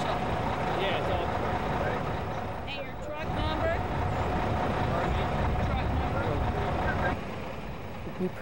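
Garbage trucks rumble heavily at a waste transfer station gate, a dense continuous engine roar with a brief squeal or hiss partway through, close and loud.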